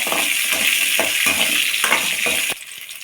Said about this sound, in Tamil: இப்போ சின்ன வெங்காயம் சேர்க்கலாம் அஞ்சாறு பல் பூண்டு இதையும் கொஞ்சம் வதக்கிக்கங்க